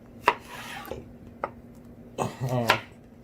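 A kitchen knife chops ingredients on a cutting board while pork with tomato and green beans is prepared, a few sharp separate cuts with a voice talking between them.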